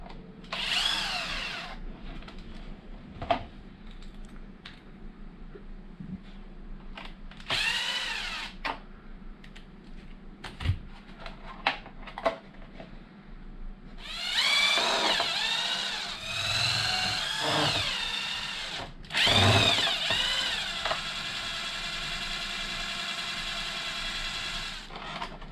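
Power drill on an Arrma Mojave RC car backing out screws, several separate whirring bursts of varying length with short pauses and light handling clatter between them, close and loud.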